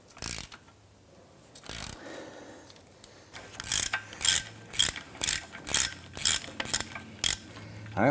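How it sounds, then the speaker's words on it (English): A gear wrench with a T50 Torx bit ratchets on an engine torque strut mount bolt of a 2005-2007 Ford Five Hundred, with about a dozen sharp bursts of rapid clicking, spaced evenly and close. "Using a T50 Torx bit and our gear wrench"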